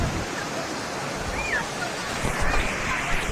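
At Karpagam garden falls, at the foot of the Yercaud hills near Salem, water rushes and splashes in a continuous broadband roar. It swells slightly toward the end, with possible faint voices in the background.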